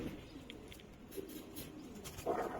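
Pigeons coo softly and faintly in a loft, with a few low calls scattered over a quiet background.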